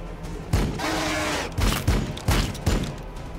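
Rapid bursts of gunfire in Warhammer 40,000: Battlesector, one sustained volley followed by several sharp, punchy shots in quick succession.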